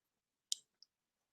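Two sharp mouse clicks sound in a quiet room while browser tabs are flicked through, the first crisp and louder, the second a fainter tick a moment later.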